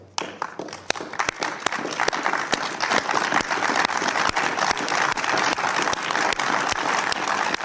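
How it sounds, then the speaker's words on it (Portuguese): UN delegates burst into sustained applause in an assembly hall, a dense, steady wall of clapping that rises quickly and holds for several seconds with sharp individual claps standing out. "depois de alguns instantes, foi aplaudido pelos colegas."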